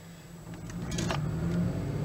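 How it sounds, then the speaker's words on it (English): A 2011 Ford Edge with a misfiring engine and hesitation, heard from inside while driving: a low uneven engine hum swells gradually, with a few brief ticks and rattles in the cabin. "now the car is misfiring"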